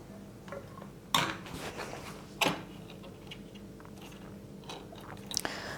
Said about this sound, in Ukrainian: Так, відкриваю тунець.